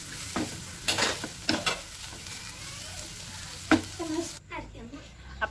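Chattipathiri, a layered Malabar pastry, sizzles and fries in a pan during Iftar cooking, with a steady frying hiss and several short louder bursts of stirring or handling, close and alone without speech.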